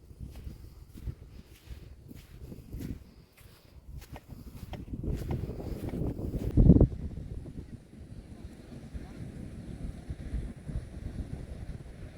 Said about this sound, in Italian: Il mare è un po' agitato, però non c'è molto vento